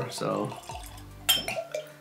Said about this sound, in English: This is the neck pour